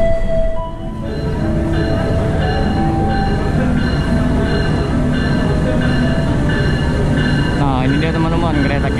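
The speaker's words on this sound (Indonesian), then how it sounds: "Dan kereta kita mau datang, teman-teman." A passenger train arriving at a station rumbles steadily nearby with squealing wheels and a long metallic whine, loud throughout, while a voice speaks over it.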